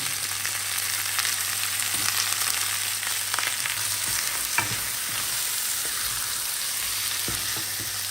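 Pork frying with garlic and salt in a pan, a continuous close sizzle with soft stirring scrapes now and then.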